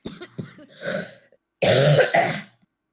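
Several close coughs and throat-clearing bursts, a cluster of short ones followed by a longer, heavier hacking cough.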